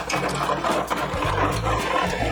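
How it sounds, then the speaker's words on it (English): Chocolate mud cake batter of sugar and eggs being whisked, a steady continuous mechanical whirr with low droning hum running evenly throughout, close and fairly loud, no talking. "and whisk it for a while."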